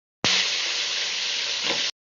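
Broad beans frying in hot oil in a wok, a loud, steady sizzling hiss that starts abruptly and holds for under two seconds before cutting off, with no voices.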